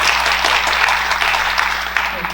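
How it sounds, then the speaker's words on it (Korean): Sustained audience applause fills a conference hall at a 2024 senior-citizen academic society meeting, a dense, steady clatter of many hands that holds evenly from start to finish without pause. "다시 한번 큰 박수 부탁드립니다"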